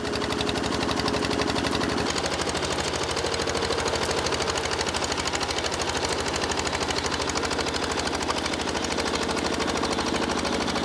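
A power tiller engine runs steadily up close with a fast, rattling single-cylinder chug that changes tone slightly after a couple of seconds but keeps the same loud, continuous pace.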